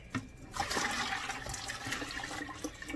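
Hot water pours from a pot into a glass jar of tea bags, a fast, splashy gush that fills the space for a few seconds, close and fairly soft, with some spilling and no talk.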